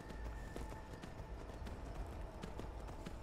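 A horse ridden at a run in the video game Skyrim near Whiterun, its hooves clip-clopping in a quick steady rhythm against faint ambient background, with no voices.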